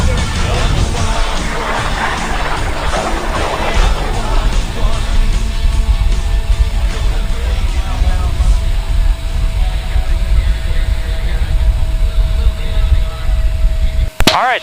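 A stunt aircraft flown at high speed by a world champion pilot at the Redlands airshow, a loud, continuous roar and rush of noise lasting several seconds, with a sharp burst at the very end.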